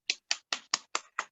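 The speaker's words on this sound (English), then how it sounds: "That's me clapping." Six sharp, evenly spaced claps ring out in quick succession, crisp and close, with silence between each one.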